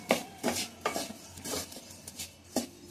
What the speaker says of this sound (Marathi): आता हे सगळं मिक्स करूया